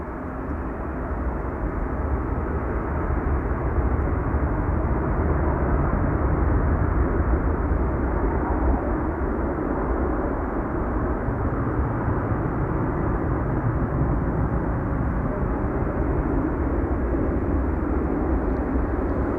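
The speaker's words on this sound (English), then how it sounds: "Let's quickly look at the touchdown of the CRJ from Lufthansa arriving from Munich." A Lufthansa CRJ regional jet arriving from Munich lands at Amsterdam Schiphol Airport, a steady, heavy engine roar that holds at an even level throughout, with no voices.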